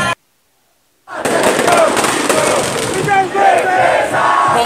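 Palmeiras football fans roar, sing and cheer at a championship title celebration at Palestra Itália. The dense, loud crowd noise bursts in after a second of silence and carries on steadily without a break.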